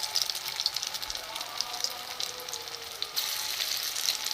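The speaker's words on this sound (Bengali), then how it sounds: "এইভাবে আমি সবগুলো দিয়ে দেবো, সবকটা ভেজে নেবো" Soybean chunks frying in a little oil in a pan, giving a steady soft sizzle with faint crackles and a slight surge near the end, heard alone without talk.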